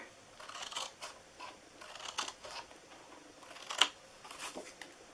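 Scissors snip through paper pieces for a flowering window box in a series of short, crisp, close cuts, irregularly spaced and fairly quiet, with one sharper click midway.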